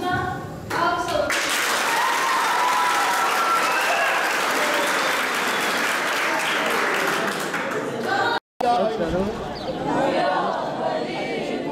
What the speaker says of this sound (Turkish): Biz fazla artık burada alkışlayalım.